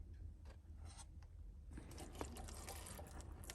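Water poured from a watering can into the bottom of a seed-starting tray, a steady splashing trickle that grows fuller and louder partway through, heard close up with no talking.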